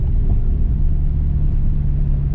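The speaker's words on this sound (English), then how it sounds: "Definitely a cat back because I can hear a downpipe." Modified Ford Focus RS with aftermarket cat-back exhaust, downpipe and intake, giving a steady, loud low exhaust drone with a constant hum, close by and with no talk over it.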